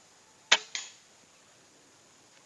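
One air rifle shot through a Neo Gorilla suppressor: a crisp, hissing pop, then a fainter smack moments after, followed by near silence with a faint click at the end.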